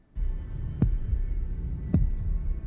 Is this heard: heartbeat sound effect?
yes